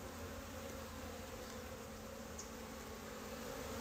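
Honeybees drone steadily and densely throughout a hive inspection, a continuous low buzz of the colony close at hand with a faint high whine above it and no talking.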